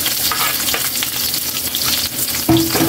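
Garlic and onion sizzle steadily in hot oil in a pan, a continuous close frying hiss with occasional stirring scrapes, a sharper metallic clink near the end, and no talk.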